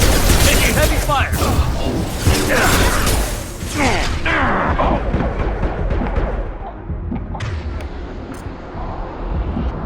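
Heavy gunfire in a Mass Effect 2 battle, loud rapid volleys and booming impacts close by, dense at first and thinning toward the end, with voices talking over the fight.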